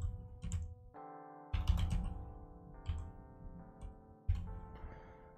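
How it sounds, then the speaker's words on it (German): Computer keyboard typing in bursts of clicks and taps, fairly close, with brief pauses between runs of keystrokes over a steady background hum. "Wenn ich tippen könnte..."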